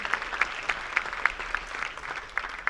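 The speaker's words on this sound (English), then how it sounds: "I think we should clap once again for all the performance." An audience at a Republic Day celebration at Parul University clapping, a dense, even patter of many hands with occasional louder claps, moderately loud and sustained.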